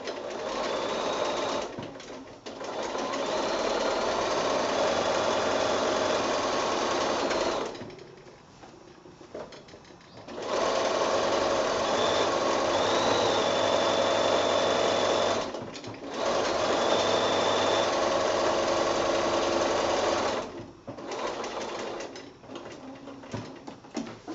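Sewing machine stitching rows of quilting on a garden path quilt, running in three long steady bursts of even whirring with short pauses between them, close and loud with no talk.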